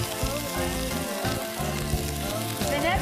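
Onion and garlic frying in olive oil at the bottom of a soup pot, a loud, busy sizzle with crackling pops running continuously, no voices over it.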